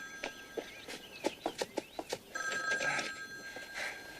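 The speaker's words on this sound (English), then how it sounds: "Oh, phone's ringing." A telephone bell rings in an indoor TV drama scene, several short bursts followed by a longer ring, loud and close with no talk over it.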